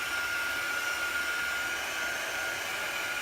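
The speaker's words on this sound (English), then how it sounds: "I'm just speeding it along here with the dryer." Handheld heat dryer blowing on chalk paste over a craft transfer, a steady loud whirring rush of air running unbroken throughout, close by with no talk.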